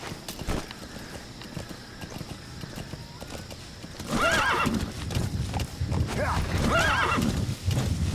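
A horse's hooves clop along steadily in the video game Metal Gear Solid V: The Phantom Pain, then it neighs loudly a couple of times, up close, with a voice talking faintly underneath.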